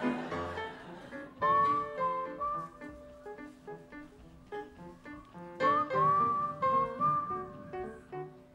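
Several people whistle a melody along with a playing song, the whistled line rising in bursts over the music.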